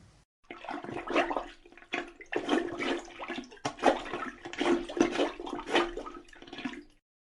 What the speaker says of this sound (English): why don't we listen to the sound a plunger makes in a toilet?